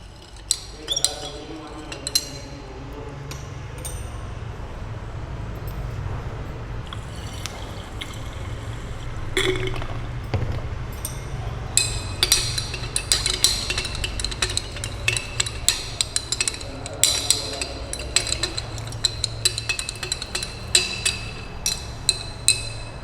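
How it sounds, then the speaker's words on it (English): A glass rod stirs a ferrous ammonium sulphate solution in glassware to dissolve settled particles, giving repeated sharp clinks and taps against the glass over a steady background, with talk running through it. "with the help of glass rod, we will stir the solution and try to dissolve the particles"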